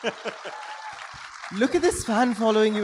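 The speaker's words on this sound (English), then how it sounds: "One more loud round of applause for Stephen" Audience applause for Stephen Fry at a live conversation event at the Jaipur Literature Festival, heard briefly as a patter of claps before someone speaks over the crowd noise.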